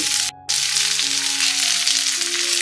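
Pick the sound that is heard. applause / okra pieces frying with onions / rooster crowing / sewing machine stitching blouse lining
okra pieces frying with onions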